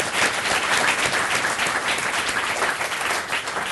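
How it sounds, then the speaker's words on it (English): Audience applause after student readings at an evening literary reading, a dense, continuous wash of clapping from a sizeable crowd that holds steady throughout. "so a big round of applause for all of them."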